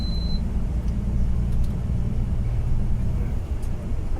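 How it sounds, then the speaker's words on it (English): A car accelerates hard around the Silverstone circuit. A steady, loud engine roar and rumble drones without a break, heard from inside or close by. "you're accelerating really, really hard to sort of where that van is"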